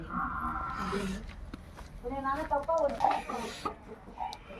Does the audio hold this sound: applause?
no